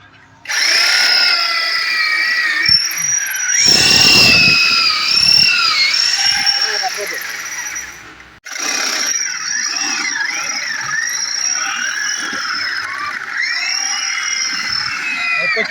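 A power drill bores holes for chimney mounting brackets on a fireplace stove, with the bit wetted as it struggles through the material. Close, loud whining and squealing runs for several seconds, breaks off briefly, then resumes steadily.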